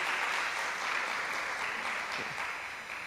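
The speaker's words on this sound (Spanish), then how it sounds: "O regáleme un aplauso, por favor." A church congregation at a Sunday service claps in applause, a broad even wash of many hands heard from a distance, steady for a few seconds before easing off slightly, with a little talk underneath.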